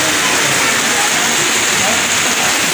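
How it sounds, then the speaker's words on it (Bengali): Heavy rain pours down in a dense, loud, continuous roar with no breaks, close by, with a voice faintly mixed in. "এইদিকে দেখো কি জোরে বৃষ্টি পড়ছে"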